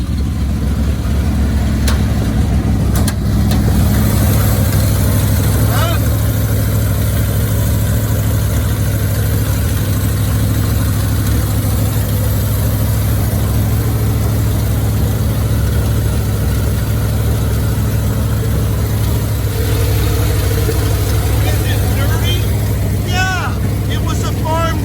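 A Ford F250 Custom with a big block 460 V8 idles, giving a steady, unbroken low rumble up close, while people talk over it now and then.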